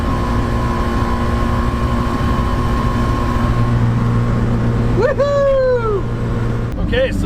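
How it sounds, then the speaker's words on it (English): A Mazda rotary pickup's exhaust drones steadily while cruising in fifth gear, a continuous low engine hum with road noise inside the cab, joined near the end by a few sweeping whoops from a voice. "the exhaust is actually awesome. It's nice and quiet, not bad while you're cruising at all"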